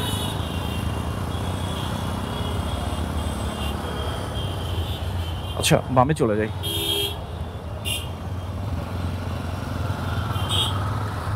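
Motorcycle crawling through a Dhaka traffic jam, a steady engine rumble under street noise, with a burst of car horns midway and someone talking over it.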